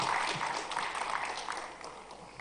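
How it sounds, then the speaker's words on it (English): Applause from an audience welcoming a speaker onto a stage at a tech event: a dense, even patter of many hands clapping, fairly faint and distant, slowly tapering off over a couple of seconds. "Can we all give a huge round of applause as we welcome her on the stage,"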